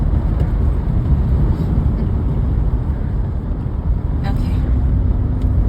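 Continuous low road rumble from inside a moving car, steady and close throughout, with a brief spoken word from a woman partway through.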